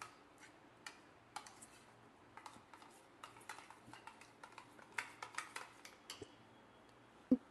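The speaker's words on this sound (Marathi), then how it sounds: "नंतर याला मी चांगला आता फेटून घेते चमच्याने गाळून घेतल्याच्या नंतर।" A spoon whisking strained yogurt in a bowl, producing quick irregular clinks and taps close by, with no voices.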